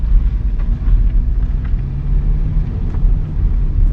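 A Daewoo Lanos 1.5 SE is on the move, with a constant low road rumble and tyre roar filling the cabin for a few seconds. No one talks.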